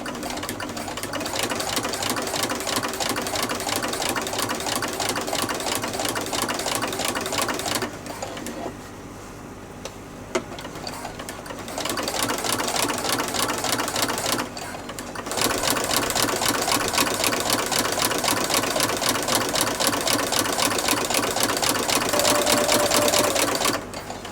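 A sewing machine stitches fabric with a fast, steady mechanical whirr in long continuous runs, close and loud, broken by a few short pauses where the needle stops before it starts again.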